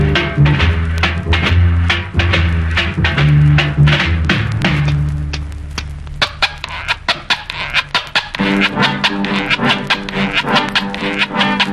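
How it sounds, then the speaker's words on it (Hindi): A metal Latin American scraper rasps in a song from the Hindi film Padosan, its rhythmic scraping strokes woven into dense, loud music that runs throughout. "ये जो कंघी की आवाज है ये दरअसल मेटल के बने लैटिन अमेरिकन स्क्रैपर से तैयार की गई है।"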